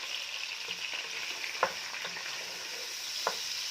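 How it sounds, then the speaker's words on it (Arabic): Cubed sausage sizzles steadily in a pan, a constant crackling hiss broken by a couple of sharp pops, fairly close, with no talking. "يعني أنا كده هنزل كده بالصدق بتاعي الأول كده عشان أنزل النكهة اللي جواه"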